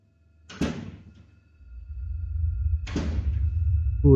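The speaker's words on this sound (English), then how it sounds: "Oh, it's his front door." Front door of a house opening and closing at night, two sharp knocking thuds about two seconds apart, the second followed by a low sustained rumble and a fresh clack at the end.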